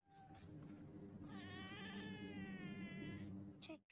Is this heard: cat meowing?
yes